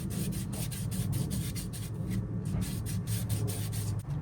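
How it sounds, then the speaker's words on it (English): Steady rhythmic rasping of sandpaper rubbed back and forth over a surface, close up, with quick regular strokes and no talking. "I'll just take my time and just sand this bit down."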